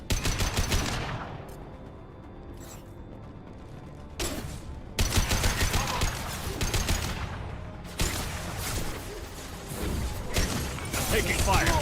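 Repeated bursts of gunfire in the science-fiction shooter Mass Effect 2, coming in clusters with brief lulls between them, loud and close, mixed with game effects and occasional speech.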